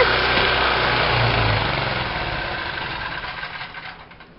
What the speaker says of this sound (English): it works off the generator